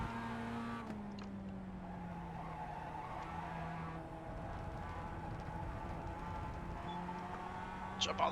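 Engine of a Global Mazda MX-5 race car in the iRacing video game, a steady droning tone that shifts pitch as it revs, with brief tire squeal near the end.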